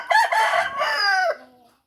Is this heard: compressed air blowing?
no